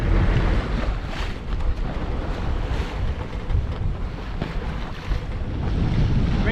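A sailboat under way at sea, with steady loud wind buffeting the microphone and waves washing against the hull throughout, no voices.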